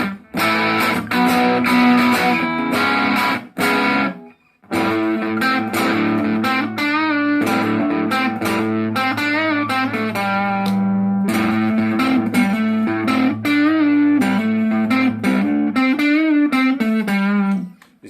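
A Chinese replica of a Gibson ES semi-acoustic guitar is played through crunch distortion, with chords and singing lead notes that pause briefly before carrying on at a steady loudness.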